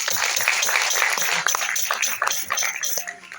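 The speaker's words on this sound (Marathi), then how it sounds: "खूप टाळ्या त्यांच्यासाठी" An audience at a devotional music event claps for the singers, a fairly loud wash of applause with distinct individual claps that thins out toward the end.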